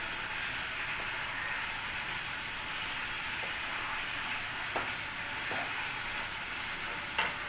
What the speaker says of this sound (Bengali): একটু কষিয়ে নিচ্ছি মশলাটার সঙ্গে।